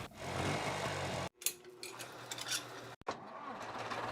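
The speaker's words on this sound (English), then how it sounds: "So those engines, those are like old tractor engines, these ones." Engine sound effect of an old tractor, a low chugging, rumbling drone that cuts off abruptly, then resumes as rougher, uneven running with a brief dropout, heard moderately close and alone.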